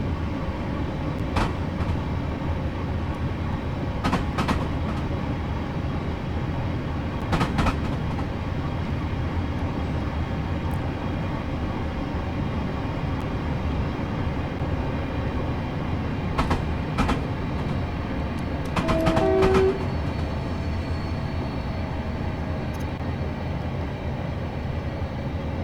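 A Class 323 electric train rumbles steadily in Train Simulator 2021 on the Birmingham Cross City Line, a continuous low drone of motors and rolling wheels with occasional clicks and a short tonal chime near the end.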